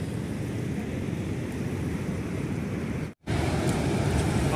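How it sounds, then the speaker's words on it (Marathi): Water roars out of the open Jayakwadi dam spillway gates, 18 gates discharging at high speed into the river above Paithan town; a loud, steady, broadband rush fills the clip, cut by a brief dropout near the end. "इतक्या वेगाने विसर्ग सुरू आहेत की इथं प्रचंड आवाज येत आहेत पाण्याचा"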